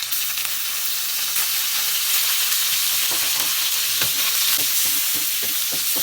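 Beef sizzling hard in hot vegetable and sesame oil, a loud steady hiss and crackle with intermittent stirring clicks and scrapes running throughout, close up and without talk.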